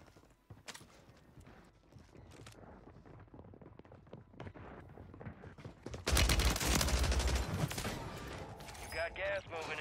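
Gunfire in the video game Warzone 3 from the Akimbo WSP Stinger SMG, with rapid shot bursts that turn into a loud, dense volley partway through, under players talking.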